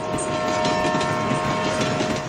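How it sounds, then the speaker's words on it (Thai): A train rumbles along the tracks with a steady roar and faint rhythmic clatter, loud and continuous throughout. "เสียงรถไฟที่กำลังวิ่งอยู่บนราง"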